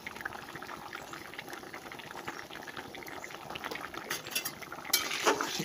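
A spoon stirring mung dal boiling in a pot, soft scraping and clinking of metal against the pot over a low bubbling simmer, with a few sharper knocks near the end.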